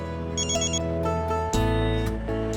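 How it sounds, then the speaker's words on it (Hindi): A telephone rings in short repeated bursts over a background of steady tonal music, with no voices. "फोन आ रहा है।"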